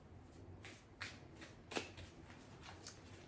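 Tarot cards shuffled and a card drawn: several soft riffling rustles and flicks, one sharper snap near the middle, quiet and close with no talking.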